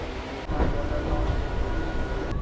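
Passenger train on a roughly 111 km run to Nabadwip, heard from inside as a steady low rumble and broadband rolling noise with a faint tonal hum, continuous and even, no voices.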